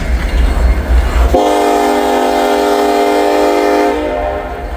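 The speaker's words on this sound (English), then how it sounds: "Man, that's a loud horn." A loud, close diesel locomotive horn blares in one sustained chord over rumbling train noise, fading slightly at the end.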